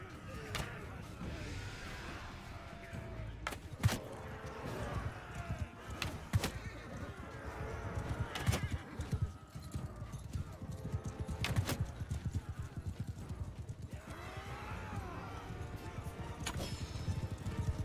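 Horses gallop with rapid clip-clop hoofbeats and occasional whinnies during a battle in Mount & Blade II: Bannerlord, mixed with clashes and thwacks while someone talks over the action.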